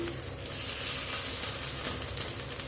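A vegetable pancake frying in a pan gives a steady, close sizzle that holds evenly throughout, alone with no talk.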